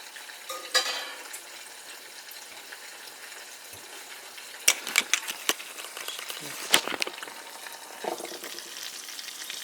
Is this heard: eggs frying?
yes